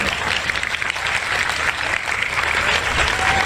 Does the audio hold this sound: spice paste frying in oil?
no